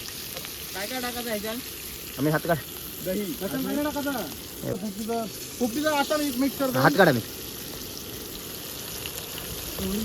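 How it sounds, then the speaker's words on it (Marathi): Pomfret fish sizzling steadily in a hot pan, a constant frying hiss running beneath people talking intermittently nearby. "आता तवा फ्राय करतोय पापलेट"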